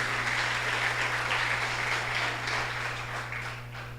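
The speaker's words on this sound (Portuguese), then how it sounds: "Dá um aplauso ao Senhor aí para acordar em nome de Jesus" A church congregation applauds in a steady, dense wash of clapping that holds at an even level and eases slightly toward the end, with a constant low hum underneath.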